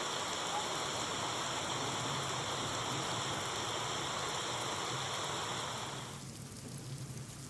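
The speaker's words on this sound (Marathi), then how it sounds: "मुसळधार पावसानं रस्त्यांना नदीचं स्वरूप आल्याचं इथं दिसलं।" Heavy monsoon rain pouring down with floodwater running across roads, a dense steady roar of falling water that eases slightly near the end.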